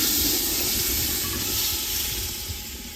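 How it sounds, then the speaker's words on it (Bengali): Marinated mutton for biryani goes into a hot pot and sizzles with a loud, steady, hissing frying sound that fades slightly over a few seconds. "এবার দিয়ে দিব ম্যারিনেট করা মাটন"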